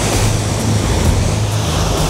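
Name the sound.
boat wake waves and spray on a lake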